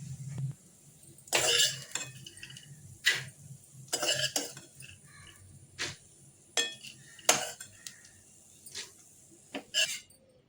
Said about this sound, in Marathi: भोपळ्याची बी, मगज बी आणि सूर्यफुलाची बी, ही पण मी आता एका भांड्यामध्ये काढून घेते.